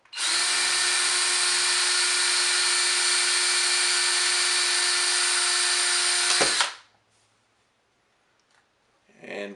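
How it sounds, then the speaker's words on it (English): Power drill spinning steadily to twist chain link fence wire, a loud constant high whine held for about six seconds, then abruptly cut off, followed by a short faint rattle. "And just turn your drill on."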